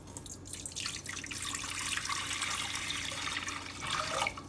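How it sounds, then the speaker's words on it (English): Hot water streams steadily from a tap or kettle into a pan for boiling fettuccine pasta, a continuous splashing gush that swells slightly near the end. "you want to add in your boiling water"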